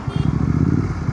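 A Royal Enfield GT650 motorcycle engine fires up and settles into a steady, low, throbbing idle, heard close and fairly loud with a slight mechanical clatter.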